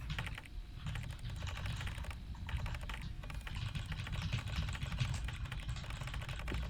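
Rapid, steady keyboard typing fills the stretch, a dense run of close key clicks and taps with brief pauses, heard on its own.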